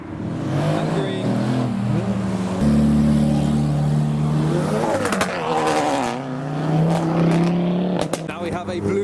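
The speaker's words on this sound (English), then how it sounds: "And a revving C63." A Mercedes C63 revs its engine while pulling away from a car show among modified cars, a loud, close rumbling engine note rising and falling over several seconds, with a crowd talking throughout.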